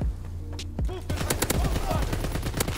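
A Lewis machine gun fires in Call of Duty WW2 in loud, rapid bursts of closely spaced shots that grow denser into sustained fire, with other gunfire mixed in.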